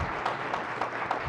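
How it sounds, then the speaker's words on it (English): Brief, fairly faint clapping from a lecture audience, a short burst of applause with no voices over it. "I would really like to give a round of applause to Todd for this wonderful lecture"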